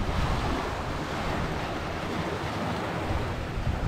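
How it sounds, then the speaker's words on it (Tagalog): Loud, continuous rushing water with wind buffeting the microphone, a dense, steady roar of strong waves close by. "Lakas ng tubig."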